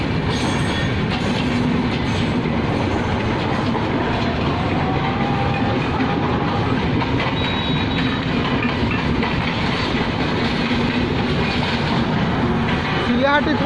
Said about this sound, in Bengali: অনেক বড় ট্রেন